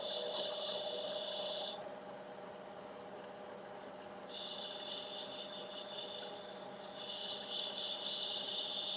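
A turned wooden capsule box spins on a wood lathe as a Scotch abrasive pad is rubbed against it, giving a soft hissing rasp in bursts over the steady motor whir, with no talking.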